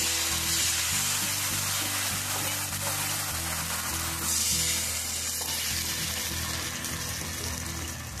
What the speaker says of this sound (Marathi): दुसरा पण थोडं तेल लावून घ्यायचं आणि हे बेटर यामध्ये टाकायचं